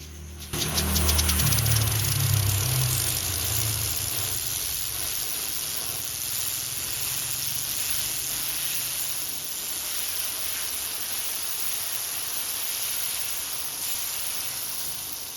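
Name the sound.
homemade steam turbine running after nozzle adjustment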